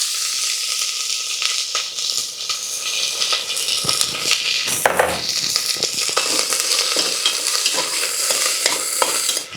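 Sliced onions frying in a pan while being stirred, a steady loud sizzle with scraping stir strokes throughout, no voices.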